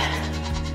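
Several goats bleat close by in quick succession, a short run of wavering nasal calls at a farm where young goats are being introduced to the herd.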